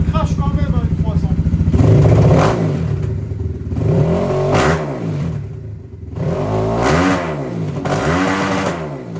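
A BTC T18 300cc dirt bike engine, a model without an electric starter, revs hard and close up in repeated surges, its rough throaty bark rising and falling over several seconds.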